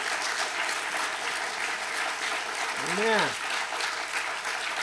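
A church congregation applauds in a steady, dense wash of clapping that fills the room, with a voice briefly speaking over it near the middle.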